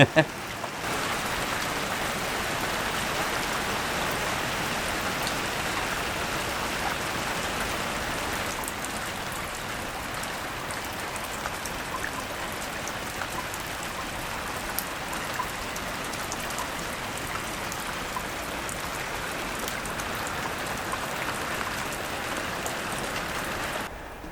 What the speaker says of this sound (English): listening to the rain forever